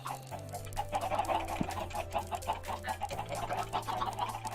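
Chickens cluck in Minecraft v1.17, rapid repeated clucks in a steady stream over a low droning hum, with no talking.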